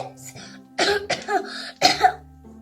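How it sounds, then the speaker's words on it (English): Several close coughs into an elbow, a short series of throaty bursts with brief pauses between them. "cough in your elbow, like this"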